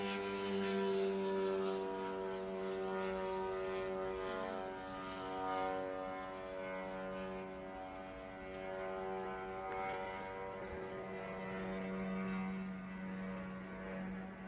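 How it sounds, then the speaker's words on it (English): A drone flies overhead, giving a steady, droning hum with a rich stack of tones that holds at an even level for the whole stretch, with no voices. "That's a drone right there, y'all."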